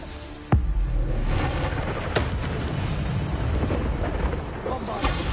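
A Bombarda blast spell from Hogwarts Legacy strikes with a sharp, loud boom near the start, followed by a rumbling roar and further fainter impacts amid continuous battle noise.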